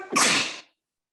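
A single sharp sneeze bursts out close to the microphone, loud and brief, then cuts off into silence.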